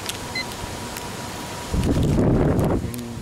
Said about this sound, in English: these gusts are moving